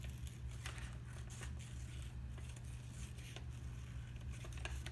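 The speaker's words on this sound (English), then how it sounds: "I'm going to cut my flower" Scissors snipping around a paper flower cutout for a kids' craft, steady close snipping and paper rustle over a constant low hum, no talking.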